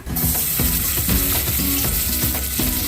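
Chopped onion sizzles loudly in hot oil for a spicy Maharashtrian chicken thecha, a steady close crackle with rhythmic scraping strokes of a spoon stirring through the pan, no voices.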